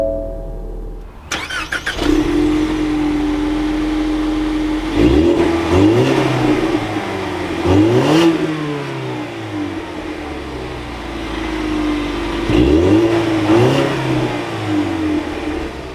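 A 2021 Ford Mustang EcoBoost fires up with a brief starter crank and catches into a steady idle, followed by several sharp revs that rise and fall, all close and loud with no talking.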